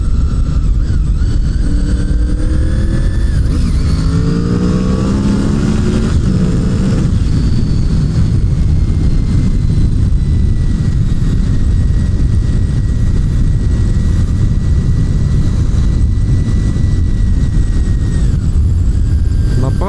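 A motorcycle fitted with a new sport exhaust runs with a loud, continuous engine drone, its pitch rising and sweeping early on before settling into a steady roar for the rest of the stretch.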